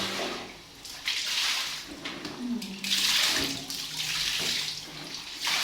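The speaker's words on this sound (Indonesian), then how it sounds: "Nah, di situ kita bilas." Water rinsing a bathroom after a citrus cleaning, with a steady rushing and splashing that rises and falls throughout and carries no speech.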